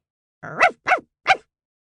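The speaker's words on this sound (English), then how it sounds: "heard a shrill bark" Three sharp, high-pitched dog barks in quick succession, close and loud, with silence before and after.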